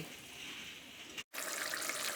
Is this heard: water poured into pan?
yes